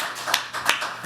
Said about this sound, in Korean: 자동으로 박수가 나오네요